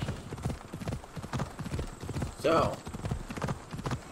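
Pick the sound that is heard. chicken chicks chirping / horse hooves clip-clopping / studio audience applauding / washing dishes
horse hooves clip-clopping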